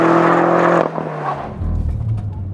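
A 4,300-pound BMW M5 F10 sedan powers out of a corner, its loud, close engine note strong and steady before dropping away into a lower rumble of road and exhaust noise.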